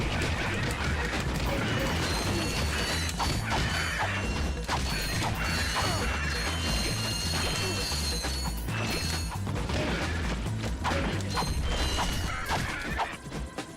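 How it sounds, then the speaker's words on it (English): Bombs thrown with the bomb glove in Ratchet & Clank explode in constant crashing, clanking game chaos, a loud dense mix of blasts and mechanical clatter with no pauses. "I'm going to use the bomb glove and just start throwing bombs"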